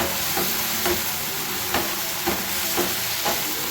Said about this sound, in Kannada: ಈಗ ಗ್ಯಾಸನ್ನು ಹೈ ಫ್ಲೇಮಲ್ಲಿ ಇಟ್ಬಿಟ್ಟು ಚೆನ್ನಾಗಿ ಮಿಕ್ಸ್ ಮಾಡ್ಕೋಬೇಕು.